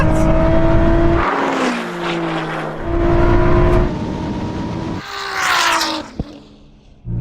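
A Ferrari SF90 and a 1000 hp Nissan GT-R drag race. Loud, close engines howl and rise in pitch through several gear shifts, with a sharp crack near the end.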